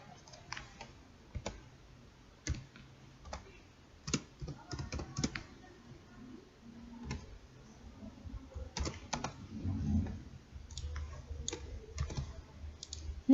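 Keys clack on a computer keyboard in irregular bursts while values are entered into an online quiz form, with sharp clicks spread across the clip and a faint low hum beneath.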